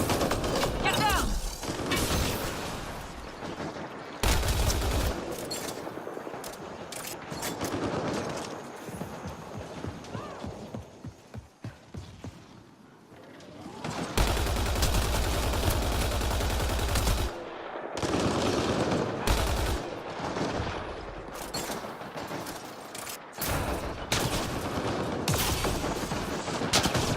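Gunfire in the video game Mass Effect Andromeda, with repeated loud bursts of automatic fire and impacts that come and go in waves over a busy combat backdrop, and some voices talking in between.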